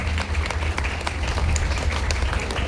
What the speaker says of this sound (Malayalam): കയ്യടി നിൽക്കാൻ പാടില്ല.